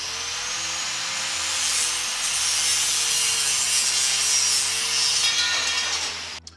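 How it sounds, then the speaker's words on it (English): A handsaw cuts through a piece of LED light channel in a steady back-and-forth rasping rhythm, close and loud, with no talk over it. "I'll cut this piece so I have a piece that works perfectly on both ends that'll bridge the gap."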